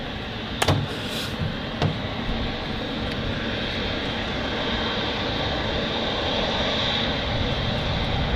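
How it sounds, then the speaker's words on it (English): A departing Emirates Boeing 777 airliner taxis past at Manchester Airport, its jet engines giving a steady, loud, broad roar that swells slightly over the length of the clip, with a couple of brief knocks near the start. "Ladies and gents, here is the Emirates 777. Taxiing past us"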